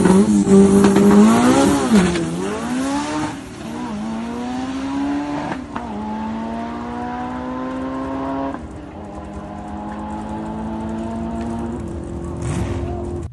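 Modified Mazda Miata race cars driving hard, engines revving and shifting in repeated rising sweeps that drop at each gear change, loud and close with no voices.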